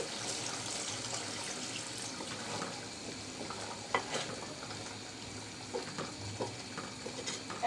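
Water goes into a pan of cooking beef with potatoes and peyaju, a soft continuous splash and sizzle with a few stirring knocks, quiet and close.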